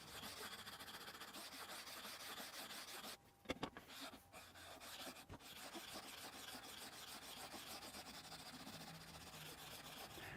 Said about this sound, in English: I just want to lightly sand it to remove the marks from the machining.